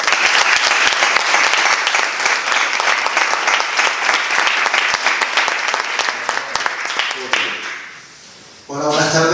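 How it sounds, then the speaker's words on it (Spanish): Audience at a book presentation applauding warmly, a dense, even burst of clapping from a roomful of people that fades near the end before a voice begins speaking. "Para vosotros, un gran aplauso."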